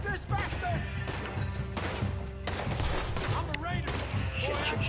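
Gunfire in Red Dead Redemption 2 rings out as a dense, loud volley of shots and crashes mixed with game noise, while a voice speaks over it.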